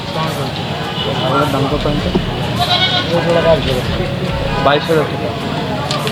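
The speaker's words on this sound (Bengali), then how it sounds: "চলেন আপনাদের দেখাচ্ছি ছাগল" Several goats bleat repeatedly nearby amid a busy livestock market crowd in Khulna, Bangladesh, with people talking throughout.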